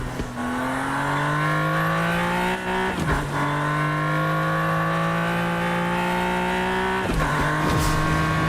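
Maven car in Fortnite fires up and revs hard, its engine note climbing in long steady pulls with two brief gear-like dips, loud and close throughout with no talking.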